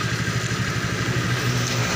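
A Honda Vario Techno 125 scooter engine keeps idling with both fuses pulled, a steady close mid-pitched putter with a fast regular pulse and no change in speed.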